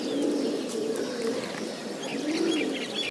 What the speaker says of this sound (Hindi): कबूतर सब खाना खा लिए हैं और पानी भी पी लिए हैं और सब मस्ती कर रहे हैं